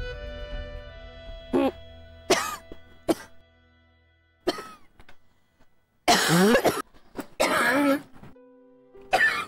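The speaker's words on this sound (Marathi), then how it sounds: "थांबला खोकला?" A woman coughs and clears her throat in several separate bursts, with a couple of harsh, loud coughing fits near the end, set against a quiet indoor drama scene with faint background music.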